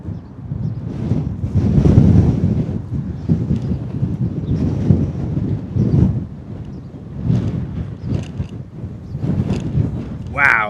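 Wind gusting at Bristol Airport, a loud buffeting rumble on the microphone that swells and eases in waves for about ten seconds, with no clear talk.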